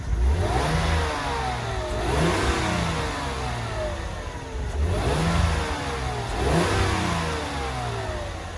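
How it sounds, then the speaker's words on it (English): A 2005 Mercedes-Benz C240 engine revs up and falls back in repeated throttle blips, rising and dropping pitch about every two or three seconds, loud and close, no talking. "give it a little throttle."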